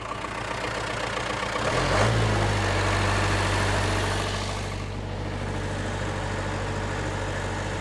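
The rebuilt Cummins diesel in a Case 1840 skid steer idles loudly and close, a steady low rumble with a deeper throb that settles in after a rev around two seconds.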